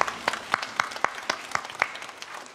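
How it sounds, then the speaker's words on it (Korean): Scattered applause from a church congregation during a Sunday Easter worship service, a modest round of distinct hand claps that is loose and uneven rather than a thick roar. "우리 주님께 영광의 박수 드리겠습니다"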